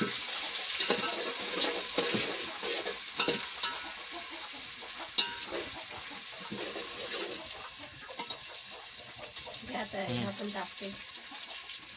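Tomatoes tumble into onions frying in a pan on a wood-fired village stove, with a steady sizzle, stirring scrapes and a few sharp clinks at moderate distance, while a voice talks intermittently over the cooking.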